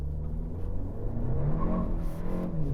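A 2025 Kia K4 GT-Line turbo launched hard from a stop in sport mode, the engine note climbing steadily as it accelerates, heard from inside the cabin with no talking.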